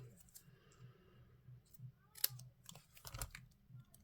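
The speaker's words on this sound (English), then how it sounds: "just snip the ends" Scissors snip the ends of paper at a card-making craft table, giving a few quiet, sharp clicks and crisp cuts close by, with faint crinkling between them.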